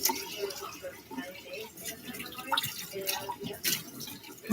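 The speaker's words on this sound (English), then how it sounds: "Just trying to rinse this." Something is rinsed under a running tap while pot roast is prepared in a kitchen: a soft, uneven splash and trickle of water with small drips, fairly quiet and close.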